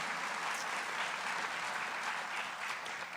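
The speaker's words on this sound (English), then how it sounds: "So please give him a round of" Steady applause from an audience, a dense wash of clapping that holds evenly throughout with no voices over it.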